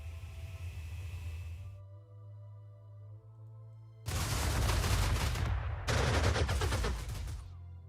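Heavy gunfire aimed at a bomber in the strategy video game Panzer Corps II, two loud sustained barrages of rapid shots over a low droning hum, the second following a short gap.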